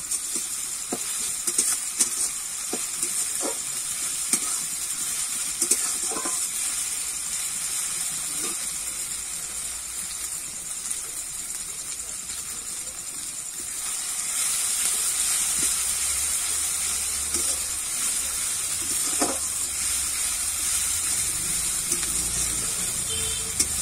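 Ginger-garlic paste fries in a hot pan for a jackfruit kofta curry, giving a steady close sizzle and hiss, with scattered clicks and scrapes of a spatula as it is stirred, and no talking.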